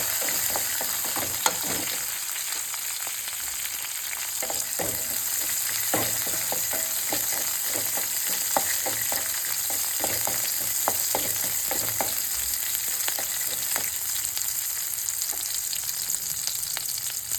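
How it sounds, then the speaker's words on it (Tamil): Onions fry in a pan with curry leaves, green chillies and dried red chillies for a banana flower stir-fry, giving a steady, close sizzle with scattered crackles and pops throughout. "வெங்காயம் பொன்னிறம் ஆகுற வரை வறுத்துட்டு"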